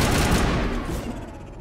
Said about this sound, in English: See how effective the assault rifle is.